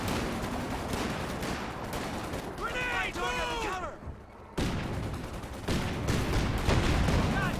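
Artillery shells and gunfire rattle in a Company of Heroes 2 match, with repeated battle bursts and explosions spread across the scene and a brief drop to near quiet partway through.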